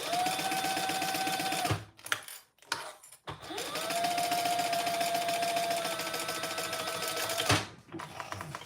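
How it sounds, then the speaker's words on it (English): A sewing machine basting the sides of fabric in place runs in two long steady whirring stitching bursts with a brief pause between, close and continuous, with no talk. "So just basting the other 3 sides in place."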